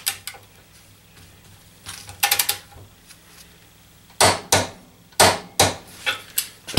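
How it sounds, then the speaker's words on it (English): A torque wrench tightening a bolt to 90 foot-pounds gives sharp metallic clicks and clanks in scattered short clusters, close with quiet gaps between. "Back on the torque wrench, we will increase it to 90 foot-pounds"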